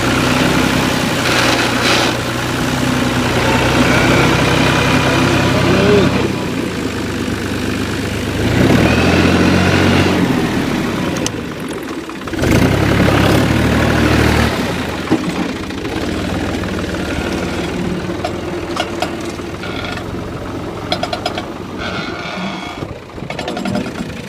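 A New Holland Alghazi tractor's diesel engine runs loud and close, a rough low rumble that rises and falls as it labours through a stretch of work.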